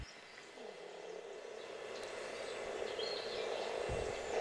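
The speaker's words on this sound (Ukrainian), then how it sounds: "А у зігрітій лісняним сонцем воді невеликого озерця бал трав'яних жаб. Самці призивним рипінням запрошують своїх подруг до весілля." Male common grass frogs call from a small sun-warmed forest pond, a faint steady chorus of creaking croaks over quiet ambience, with a few soft bird chirps mixed in and no voices.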